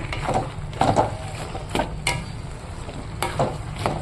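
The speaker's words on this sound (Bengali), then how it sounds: "এবার আমি ধনে পাতা কুচি দিয়ে নাড়াচাড়া করে নামিয়ে দেবো" Spoon scraping and stirring curry in a pan after chopped coriander leaves go in, a few distinct clacks and scrapes over a soft, steady background hiss, close and moderately quiet with no talking.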